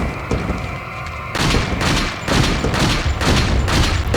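Shotgun blasts in Resident Evil 4 ring out in a rapid series of loud, sharp booms, about half a dozen heavy shots each followed by a short decaying tail.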